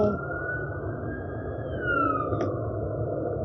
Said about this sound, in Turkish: Ambulans sesleri.